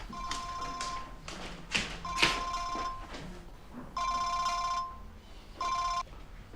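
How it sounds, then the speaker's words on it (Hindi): Mobile phone ringtone in a Hindi-dubbed drama series, a repeating electronic melody in separate bursts, with some tapping and rustling between the rings. "तुम्हारा फोन बज रहा है।"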